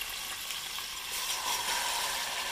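Chicken sizzling in a hot pan for chicken nihari, a soft continuous frying hiss, fairly quiet and steady, with no one speaking.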